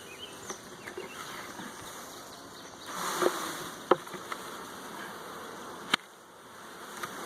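Honeybees on a hive frame drone in a low, steady buzz with a few louder wingbeat flares as bees pass close, and light handling knocks sound now and then.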